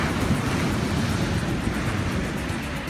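Ocean waves along the Spanish coast near Estepona, a steady, loud wash of surf mixed with wind buffeting the microphone, with no voices.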